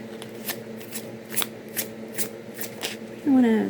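Playing cards are shuffled by hand in a series of quick, crisp riffles and flicks, fairly close, with a voice briefly heard near the end.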